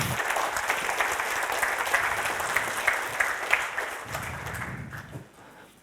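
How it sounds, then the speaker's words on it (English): Keynote audience at a tech summit applauding, a steady wash of many hands clapping that holds for about five seconds, then thins out and fades near the end. "Yeah, you get some applause."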